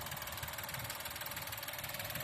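A 2024 Maruti Suzuki Celerio VXI CNG engine idles with the air conditioning off, giving a quiet, even, low rumble with a fast regular pulse throughout and no voices.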